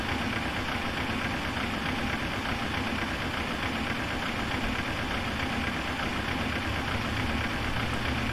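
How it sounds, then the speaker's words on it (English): Engine number 2 of a Boeing 737-800 starting in the FSX PMDG flight simulator, heard as a steady, loud, broadband engine drone and hum that holds even throughout, with no voices. "Start engine number 2."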